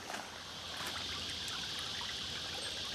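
Creek water trickling steadily at a woodland creek crossing, a soft continuous wash that stays even and fairly close throughout, with no voices.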